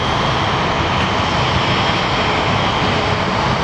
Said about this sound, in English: Ryanair's landing at Manchester Airport.